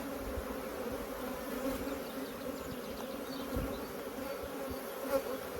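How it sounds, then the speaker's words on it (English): A dense, steady buzz of many honeybees fills the air up close at an open hive during an early spring inspection, a continuous low hum with individual bees droning past now and then. "But it's full of bees."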